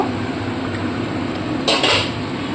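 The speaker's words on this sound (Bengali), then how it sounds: "এবার আমি ঝোলটা ঢাকা দিয়ে দেব" A lid is set onto a pot of fish curry with a single short metallic clink over a steady background hiss of the simmering pot.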